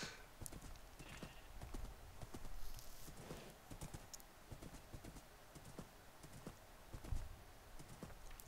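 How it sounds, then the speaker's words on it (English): Horse hooves clip-clop in Minecraft as a ridden horse moves along, a quick irregular stream of soft thuds at moderate level, with faint background game sounds and no talk. "Go, horse."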